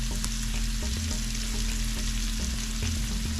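Chicken seasoned with bouillon powder and complete seasoning fries steadily in a pan, a continuous loud sizzle with small crackles and occasional stirring scrapes, with no talking.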